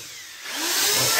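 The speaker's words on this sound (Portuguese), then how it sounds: "Pode furar aí nele, pode fazer barulho." A power drill bores into a concrete slab on a construction site, its broadband grinding roar swelling over the first second and holding steady at close range, with no talk over it.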